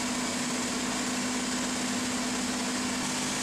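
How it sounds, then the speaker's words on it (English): A car engine runs steadily at speed with the drive wheels spinning around 65 to 70 mph while the vehicle stays stationary for driveshaft balancing, the gas pedal held down. A constant steady hum and drone fills the clip. "I'm spinning the wheels approximately 65 to 70 miles per hour."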